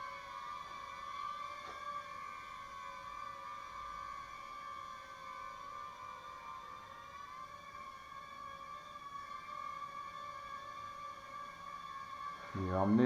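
Motors of an FG Ninja mini quadcopter run near full throttle while it hovers, a steady high-pitched whine with layered tones that rises in pitch partway through, and a voice talks over it.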